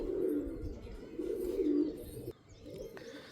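A pair of Fulsira pigeons, a male and a female, coo close by in low throbbing rolls that swell and fade, with a short lull partway through.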